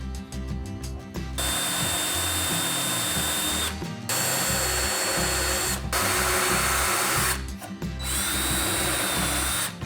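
Power drill boring shallow holes into plywood for threaded inserts, several loud whirring bursts separated by brief pauses, each run steady and close.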